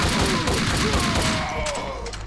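Rapid gunfire from the Max Payne 2 video game, a dense continuous fusillade of overlapping shots and game effects, loud and steady throughout with no pauses.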